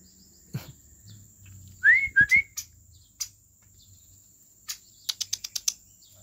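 A green leafbird gives several clear rising whistles imitating a human whistle, then a quick series of sharp clicking chirps, with quiet gaps in between.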